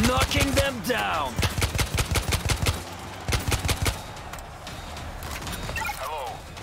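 Bursts of gunfire crack out in rapid volleys from the direction of a river during an attack, loud and close, with shouting voices mixed in and other clattering impacts between the shots.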